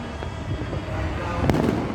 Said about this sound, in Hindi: आप बिल्कुल बम पटाखों की आवाज़ें सुन रहे होंगे